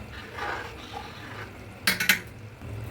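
Salt gets stirred into rice in a pot while cooking biryani, soft scraping and rustling followed by two or three sharp metallic clinks of a spoon against the pot's rim, close and fairly quiet.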